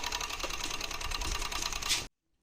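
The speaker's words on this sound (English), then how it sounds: "Next, I'm gonna sew the side, and then I will serge it." A sewing machine stitches the side seam of a skirt made from a dress, running in one steady, fast, close whir for about two seconds before stopping abruptly into silence.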